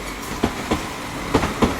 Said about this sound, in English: coming in now is going to be the 12:43 Transport for Wales service to Llandudno